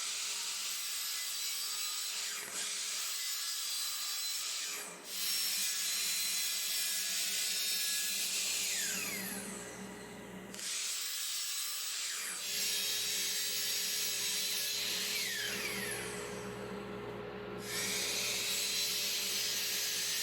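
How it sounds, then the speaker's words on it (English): A miter saw cuts scrap pine while a Harbor Freight Central Machinery 2HP dust collector roars steadily underneath, with several long, loud whining cuts separated by brief drops in the noise; no talking. "the first tool we're going to try the dust collector on is this miter saw"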